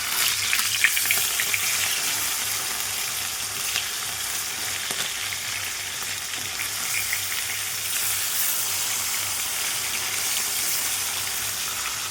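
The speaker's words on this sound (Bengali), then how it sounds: "মাছটা ভাজা হতে থাক" Fish sizzles steadily in a pan of hot oil, a close, even hiss with light crackling that carries on without a break and without talk.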